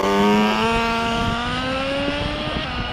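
The nitro engine of an Exceed Nitro Rally Monster RC truck buzzes loudly and close, a high raspy whine that rises in pitch as it revs, then wavers and settles.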